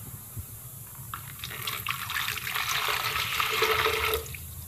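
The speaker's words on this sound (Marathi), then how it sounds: "थोडंसं एक मग्गा पाणी घेऊ." Water from a mug pours into a small bucket, a splashing fill that swells over a few seconds and then stops, loud and close against a quiet room.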